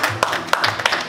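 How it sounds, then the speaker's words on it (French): An audience at a meeting of the Ivorian diaspora in Washington gives a short burst of hand clapping. A few sharp, close claps stand out over a steady wash of room noise. "on applaudit Laurent Adjei"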